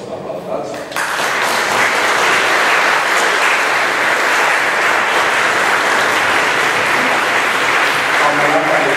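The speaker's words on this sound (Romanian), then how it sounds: "Vreau să-l aplaudați." Audience at a live music event applauds after an introduction, a brief quieter moment giving way to loud, dense, unbroken clapping that carries on steadily to the end.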